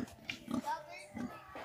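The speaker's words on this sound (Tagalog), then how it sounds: "So ito yung baboy na nakita ko kanina." A pig grunts in short low bursts on a rural farm in the Philippine province of Romblon, fairly faint and close, with people talking nearby.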